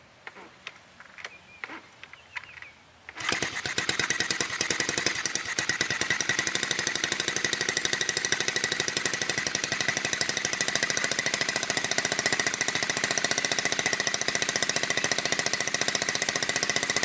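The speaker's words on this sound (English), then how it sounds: "we'll just give it a kick over and see how it starts up here" A 1970 Honda Z50 Mini Trail with an 88cc engine, a few quiet kick-start clunks followed by the engine catching and settling into a loud, steady, rapid buzzing idle that runs on alone.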